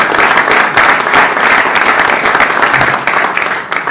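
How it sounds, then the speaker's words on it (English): Loud, sustained applause from the audience at a university system board of regents public meeting, dense steady clapping filling the whole stretch without pause. "Can we just give him a round of applause?"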